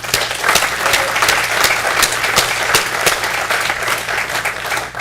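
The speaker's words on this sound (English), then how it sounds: "So could we have a round of applause?" An audience at a NASA roundtable panel breaks into sustained applause, dense even clapping filling the room at steady volume throughout.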